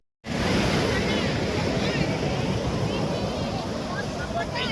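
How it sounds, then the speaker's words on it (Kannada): Big ocean waves at Marina Beach make a continuous loud roar of surf with wind buffeting the microphone, close and steady throughout. "ಮರೀನಾ ಬೀಚು ಅಲೆಗಳು ತುಂಬ ದೊಡ್ಡದಾಗಿ ಬರ್ತಾ ಇದೆ ಗಾಯ್ಸ್"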